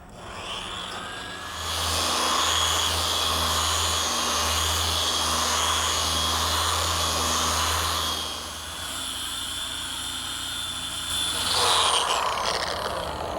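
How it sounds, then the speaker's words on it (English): A power sander whines and roars steadily for several seconds on a boat hull, dipping briefly in the middle before grinding on, loud and close. "I'm going to get busy and start sanding."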